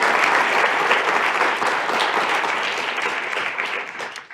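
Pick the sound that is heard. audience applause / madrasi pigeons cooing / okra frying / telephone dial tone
audience applause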